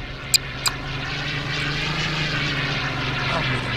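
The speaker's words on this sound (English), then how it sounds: "I just turned around and see fucking Caden driving at me with a fucking plane." A propeller airplane engine in the game Garry's Mod drones loudly and steadily after two sharp clicks, a continuous buzzing hum filling the whole stretch without speech.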